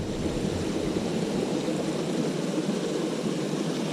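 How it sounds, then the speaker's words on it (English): Steady rushing water runs off a hillside beside a creek trail without a break, a broad continuous hiss that stays even throughout. "The water running off from the side too"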